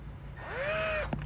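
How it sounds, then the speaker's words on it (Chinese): A power tool grinds around an air conditioner's pipe joint during a refrigerant leak repair on a Goodman unit, giving a brief close whine that rises and then falls away over about half a second. "然 后把这周围多打磨一点"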